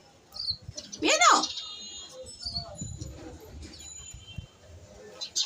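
A small bird chirps in short bright bursts, with one sharp sweeping call near the middle and softer tweets around it, while a cat watches nearby and low voices murmur underneath.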